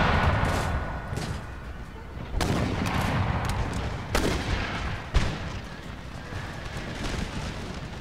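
Massed long-range rifle volleys crack across an 18th-century battlefield in Empire: Total War, with sharp shots at irregular intervals over a constant rumbling din of distant fire.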